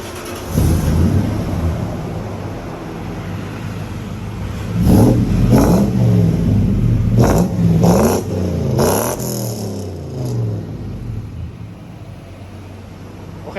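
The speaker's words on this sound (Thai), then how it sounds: "ลองเบิ้ลให้ฟังอีกสักหนึ่งรอบครับพี่ เสียงเล้าเลยฮะ" A V8 engine in a Ford Ranger pickup revs hard several times in quick bursts, loud and close, then settles back to a rumbling idle between blips.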